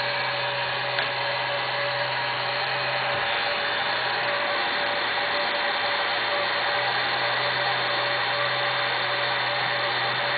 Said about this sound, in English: This is a Hunger heat gun. Put it on low heat.